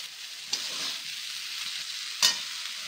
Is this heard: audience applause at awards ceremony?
no